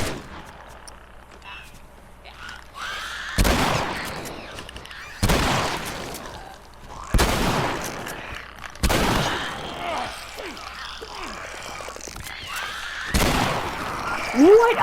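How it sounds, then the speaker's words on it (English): Shotgun blasts from The Last of Us Remastered video game, five loud, sharp booming shots spaced a second or two apart, each with a short decay, over quieter game ambience and a voice talking in between. "I shot him with the shotgun!"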